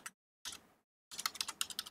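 Short bursts of keystrokes on a computer keyboard while entering code, close and crisp, with brief silent pauses between flurries of clicking.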